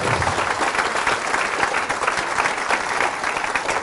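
Loud, steady applause from a large church congregation fills the space, a dense continuous wash of clapping.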